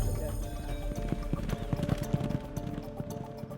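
Horses' hooves clip-clop in quick uneven rhythm during jockey training, close and clear, with a voice talking over them.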